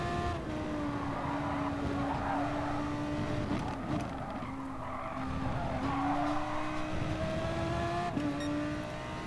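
Race car engines in GT Sport at Suzuka drone steadily with shifting pitch, mixed with tire squeal and skidding throughout a late-race lap, continuous and loud with no talking.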